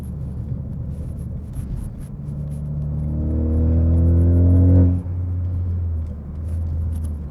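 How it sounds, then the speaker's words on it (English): A Ford Focus ST fitted with a 3-inch Accelatec stainless steel track cat-back exhaust drives on back roads, a deep low rumble swelling louder as revs climb, peaking before easing off and settling back to a steady drone. "Definitely got a deeper tone at lower RPMs, and then as you go up to the band, it gets a lot louder."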